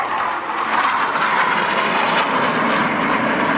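Military aircraft flying low and fast over an air show at Yeovilton during a commando assault display, a loud, continuous roar of engines swelling slightly as they pass.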